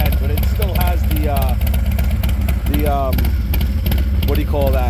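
A 2023 Harley-Davidson Low Rider S motorcycle with an aftermarket exhaust and silencer insert, running loud and steady with a deep continuous rumble throughout, close by, with a voice talking over it.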